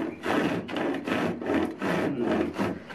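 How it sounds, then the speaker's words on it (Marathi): A new type of hand saw cuts through wood in about five steady, rasping back-and-forth strokes, close and loud with no talk. "आपण कापूया नवीन प्रकारची करवत"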